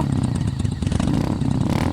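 A motorcycle rides along a forest road at night, its engine a steady close rumble with slight revving throughout.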